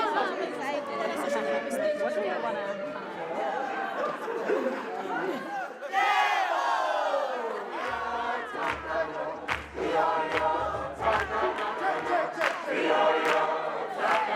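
Lively concert crowd at a German-South African ensemble singing performance, chattering, whooping and cheering loudly, with shouts rising over a steady mass of voices.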